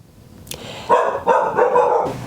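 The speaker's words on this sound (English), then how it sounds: "my dogs are barking" Dogs bark at a delivery next door, a short burst of three or four loud, close barks in quick succession after a brief yip, with no talking over them.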